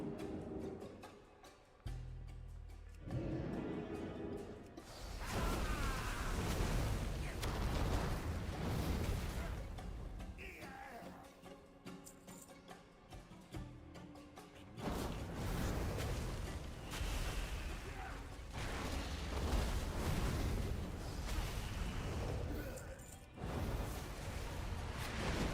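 Geyser steam eruptions in the World of Warcraft video game: loud, broad blasts that surge and roar in repeated waves, each bursting and then sustaining a dense, rushing rumble before easing off.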